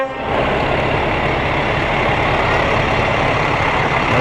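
A fire truck from Isle La Motte rolls along in a Fourth of July parade, its engine a steady, loud rumble that fills the scene without a break, with no voices over it.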